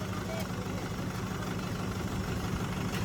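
A 4x4 tractor's diesel engine idles steadily at close range with a constant low rumble, while voices talk faintly in the background.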